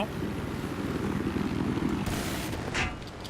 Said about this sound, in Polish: Wróg ma tu śmigłowiec!